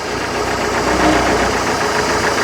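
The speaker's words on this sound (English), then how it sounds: "Now definitely idles a little smoother, but it ain't where it needs to be yet." A 120 hp MerCruiser engine in a 1968 Starcraft Islander barn-find boat idles loudly and close up in a steady, slightly rough, knocking drone with no talking.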